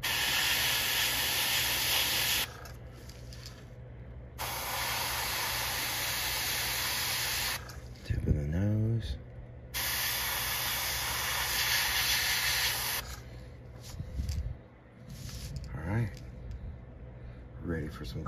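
An airbrush sprays paint onto a fishing lure styled after an AKA Toro KO crankbait, giving several long, steady bursts of close hiss separated by short pauses, with someone briefly talking between bursts.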